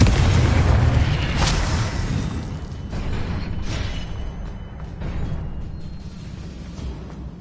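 Confringo explosive spell blast in the video game Hogwarts Legacy: a loud, rumbling boom that rolls on as a long, dense roar and slowly fades over several seconds, with no voices.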